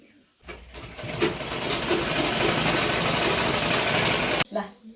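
A sewing machine stitches a kurti made from a saree, running as a fast, steady mechanical whirr for about four seconds after a quiet start and stopping abruptly.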